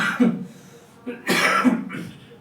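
Several harsh coughs from a sick teacher, close and fairly loud, bursting out in separate fits between brief pauses.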